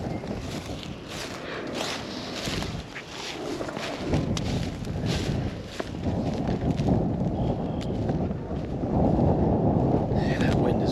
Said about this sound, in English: Yeah, that wind is really annoying.